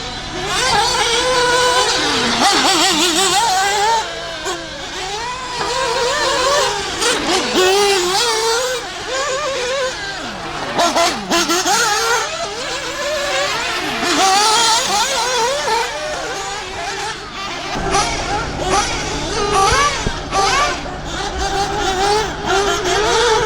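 RC cars racing on a raceway track, a continuous loud whine of small electric motors rising and falling as cars pass close, steady throughout with varying pitch sweeps.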